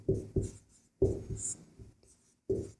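A pen scratches across paper in a Class 10 probability lesson: several short, close strokes in uneven bursts separated by brief silences, with nobody speaking.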